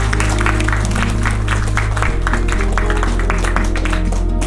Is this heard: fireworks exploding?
no